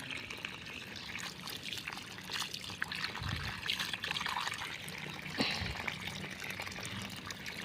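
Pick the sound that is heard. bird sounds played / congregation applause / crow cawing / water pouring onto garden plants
water pouring onto garden plants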